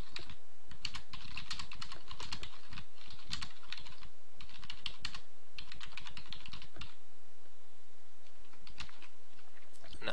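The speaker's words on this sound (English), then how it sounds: "Now open up that file and we're going to type something." Rapid typing on a computer keyboard, a dense stream of close, crisp key clicks in uneven bursts with brief pauses, steady throughout with no voices.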